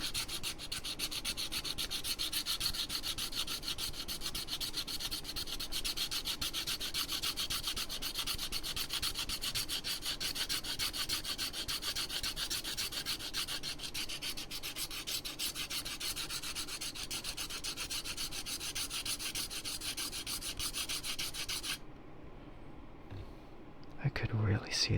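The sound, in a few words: filing an object down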